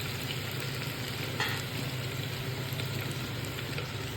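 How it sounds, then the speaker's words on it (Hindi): Garlic, chillies and cumin seeds sizzle steadily in hot oil in a pan, a soft continuous crackle with one brief stir-like clatter, no voices. "अब तेल में लहसुन मिर्ची डालेंगे। इसमें 1 चम्मच जीरा डालेंगे।"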